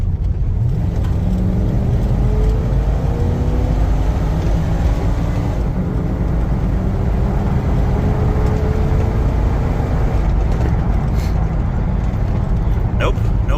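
A Jeep Grand Wagoneer engine bogs under hard acceleration on a hill, with a loud, steady low rumble and faint rising tones that never climb freely, while a voice speaks throughout.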